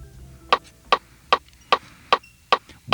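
Steady metronome clicks at 150 beats per minute, sharp and evenly spaced, about seven crisp ticks in three seconds with faint background between beats.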